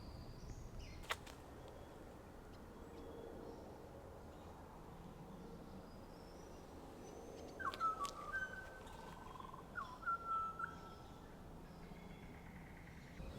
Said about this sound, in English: birds and wildlife singing in the background here too